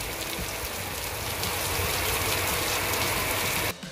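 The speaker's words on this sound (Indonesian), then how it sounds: "Oke, sudah lihat ya, gede banget hujannya" Heavy rain pours down steadily over a warehouse area in Bandung, a loud, close, continuous roaring hiss that cuts off abruptly right at the end.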